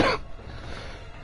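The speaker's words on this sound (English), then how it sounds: "Excuse the cough." One short, sharp cough at the start, close to the microphone, followed by quiet room tone.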